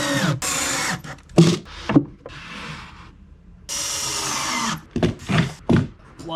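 Power drill driving screws to mount drawer slides in a shop cabinet, several bursts of whirring motor separated by short pauses and handling knocks, close and loud.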